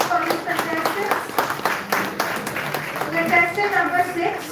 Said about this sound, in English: I request please give a round of applause for these contestants.